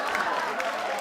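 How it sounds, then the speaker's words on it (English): Applause from a seated crowd at a gathering, a dense steady patter of hands clapping throughout the short stretch. "Can we have a round of applause for the winning group?"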